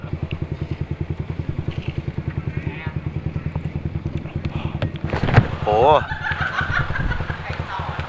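Yamaha Exciter 155 VVA motorcycle ridden with a steady, close engine drone and rhythmic pulsing throughout, a sharp thump midway, with a voice briefly talking near the end.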